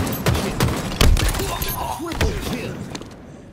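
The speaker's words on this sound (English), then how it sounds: "Watch out, grenade." Gunfire and a grenade blast pound through a Halo Infinite ranked match, with dense thumps and bursts and a heavy hit near the middle, while game voice callouts sound over the action.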